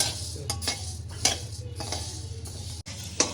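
Spices crackle and pop in hot oil with a steady sizzle, while a utensil scrapes and clinks against the pan now and then.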